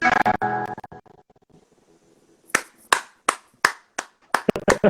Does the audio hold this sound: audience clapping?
yes